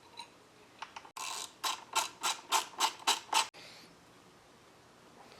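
A ratchet wrench threads bolts onto an ICT billet throttle body adapter for a used Nick Williams 92mm throttle body, giving a close run of about eight even, rhythmic clicking bursts after a few lighter ticks.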